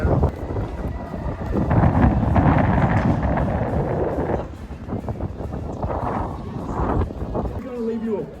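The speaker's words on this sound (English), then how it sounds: "It's so windy, everything is falling off" Gusty wind buffets the microphone in loud rumbling bursts outdoors in Auckland, New Zealand, with voices faintly audible underneath.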